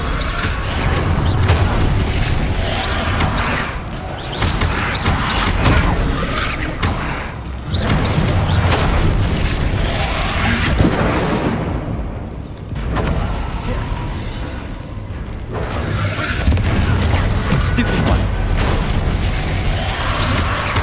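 Explosive spells burst repeatedly in Hogwarts Legacy, heavy booming blasts and crashes arriving in quick succession with brief gaps, loud and close, mixed with a voice shouting spell names.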